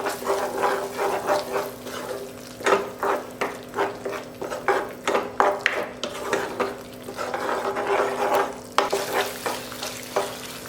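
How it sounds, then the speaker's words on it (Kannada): Masala frying in ghee for a Mangalorean-style chicken ghee roast, a steady sizzle under a rhythmic run of close spatula scrapes and knocks against the pan, with no talk. "ಇವಾಗ ಮಸಾಲೆ ಎಲ್ಲ ಚೆನ್ನಾಗಿ ಫ್ರೈ ಆಗಿ ಸೈಡಲ್ಲೆಲ್ಲ ತುಪ್ಪ ಬಿಡ್ಕೊಳ್ತಾ ಬರ್ತಾ ಇದೆ."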